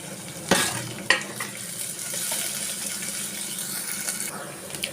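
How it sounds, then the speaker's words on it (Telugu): Finely chopped curry leaves and coriander frying in a pan for a sorghum-flour bun dosa, opening with two sharp sizzling bursts as they hit the oil, then a steady crackling fry with faint utensil clinks. "సన్నగా తరిగి పెట్టుకున్న కరివేపాకు, కొత్తిమీర కూడా వేసి కొంచెం బాగా సగం పైన వేగేటట్టు వేయించుకోవాలండి."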